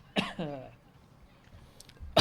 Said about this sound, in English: seeing you cough made me cough